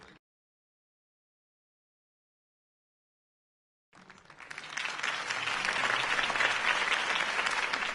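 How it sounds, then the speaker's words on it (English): A large crowd bursts into sustained, loud applause following a campaign speech, starting abruptly after a silent gap and swelling steadily to the end. "If only Mr. Wayne, my campaign's largest backer, could have heard that applause"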